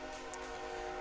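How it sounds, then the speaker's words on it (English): A train horn sounding continuously in the background, a steady tonal blare held throughout, fairly faint and distant. "if you hear a train horn in the background"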